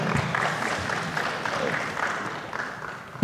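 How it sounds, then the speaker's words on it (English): Applause at a high school basketball media day after a head coach is introduced, a moderate wash of clapping from a seated audience that tapers slightly toward the end. "Applause for that."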